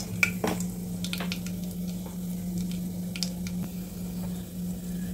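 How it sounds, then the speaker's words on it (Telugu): Cloves, cardamom and cinnamon frying in oil for a prawn curry give a soft, steady sizzle with a few crackling pops near the start, over a constant low electrical hum. "సో ఆయిల్ వేగనిచ్చి ఈ లవంగం, ఇలాచి, దాల్చిన"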